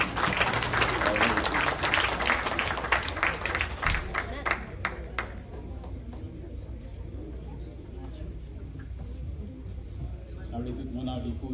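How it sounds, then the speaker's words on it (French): A church congregation applauds during a service, a dense burst of clapping for about five seconds that thins out as voices carry on over it. "Applaudissez s'il vous plaît."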